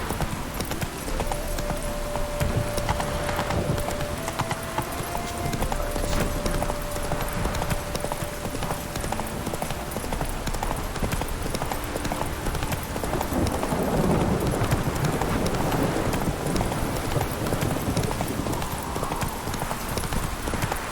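Roach, a horse in The Witcher 3 video game, gallops with continuous rhythmic hoofbeats under steady game ambience and a sustained tone, loud and close throughout.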